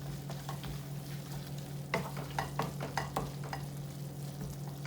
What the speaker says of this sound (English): we've added our spinach, and we're just gonna mix until it's dispersed properly